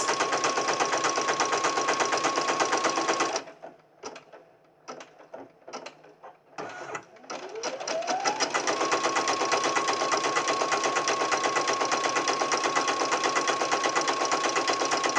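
Sewing machine stitching fabric pockets for a hippo crayon holder: steady rapid mechanical whirring, then a pause filled with scattered clicks and handling noises, then the motor restarts and runs evenly to the end, close and alone.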